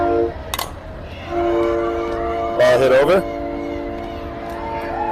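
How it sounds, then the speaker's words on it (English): A passing train sounds its horn near a softball field, with long sustained horn blasts that swell loudly in the middle while an announcer keeps talking over them. "We got a train coming by if you can't figure that out."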